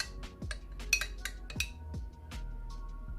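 A spoon stirs honey into ginger lemon tea in a glass, giving a quick run of light, bright clinks against the glass at an uneven pace, close up and fairly quiet.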